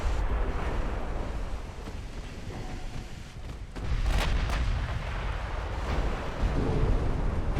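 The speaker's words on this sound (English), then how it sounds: "Just took a nasty hit from a 12-inch gun." A 12-inch naval gun shell strikes a ship during a sea battle in Ultimate Admiral Dreadnoughts, heard as dense, rumbling explosive booms with a sharp burst near the middle and continuous low battle roar throughout, no talk.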